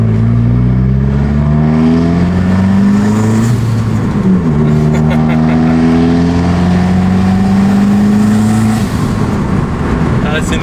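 An Abarth 595 Stage 3 engine revs repeatedly while warming up, loud and close, its pitch rising and falling in sweeping surges with a brief dip midway, and faint voices underneath.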